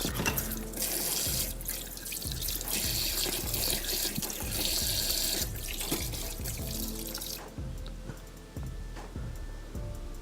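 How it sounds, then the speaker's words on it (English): Green and red peppers are washed under a running kitchen tap, water splashing steadily into the sink with repeated thumps and handling sounds as the peppers are turned in the stream, close and with no speech. "So I gave them a thorough wash."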